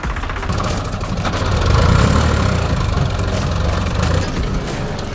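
A Swaraj 855 FE tractor engine running close by, a steady low rumbling chug that swells slightly midway, loud and continuous with no talk.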